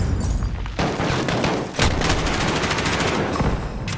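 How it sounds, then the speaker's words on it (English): A grenade explodes amid dense, loud gunfire during a Call of Duty: Modern Warfare campaign battle, with one sharp burst cutting through the continuous crackle of shots. "Okay, that's their grenade"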